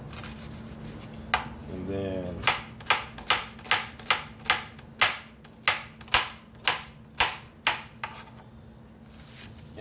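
A knife chops an onion on a cutting board at home, with about fifteen sharp, evenly spaced cuts coming close together and loud, plus a short burst of low rustling just before they start.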